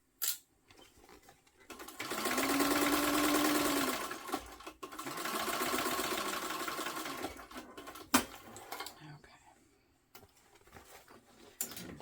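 A sewing machine runs basting stitches on a crossbody bag in two sustained bursts of fast, even mechanical whirring, close and loud, with brief quiet pauses and small clicks between runs.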